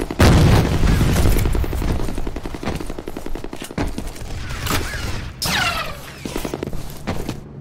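Gunfire rattles through a F.E.A.R. Combat firefight, with a heavy grenade blast thudding loudly near the start and more bursts and booms following in quick, close succession.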